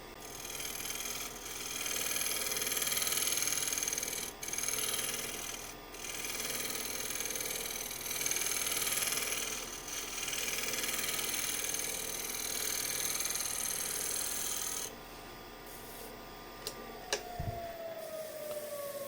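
A chisel shear scrapes elm wood spinning on a lathe, giving a steady, close, humming scrape that holds for about fifteen seconds before the lathe winds down.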